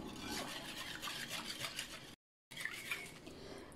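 A spoon scrapes and clinks against a bowl as orange juice gets stirred into a mixture, close and soft, with steady scraping that breaks off for a moment.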